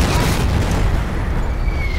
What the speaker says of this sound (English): Getting blown up.